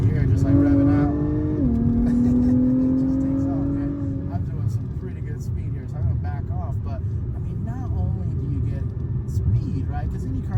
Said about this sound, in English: You hear it just like revving out.